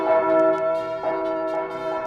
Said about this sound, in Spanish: en la Ciudad de México se echaron las campanas a vuelo